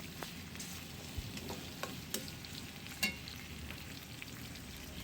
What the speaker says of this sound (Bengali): আমি মাংসটা পাশে রেখে তাতে ভাজতে আছি অন্য পাত্রে